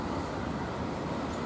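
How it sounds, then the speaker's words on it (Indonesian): Taksaka passenger train pulling out of Jakarta Kota station, Indonesia, a steady broadband rumble and rolling rail noise that stays even and continuous throughout, with no voices. "Kereta api Taksaka sudah bergerak"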